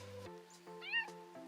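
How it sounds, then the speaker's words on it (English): A cat meows outdoors on a snowy nature trail, giving a few close, clear meows in quick succession. "Piper and Hadley are going to appreciate my close encounter with an Arctic cat."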